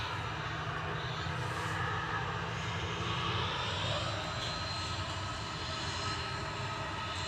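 Ryanair jet engines three and four spooling up on the ground at Manchester Airport, a steady broad roar with a low hum that shifts partway through, distant and continuous.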